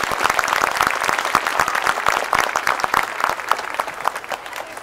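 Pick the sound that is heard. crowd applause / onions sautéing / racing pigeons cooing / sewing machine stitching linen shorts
crowd applause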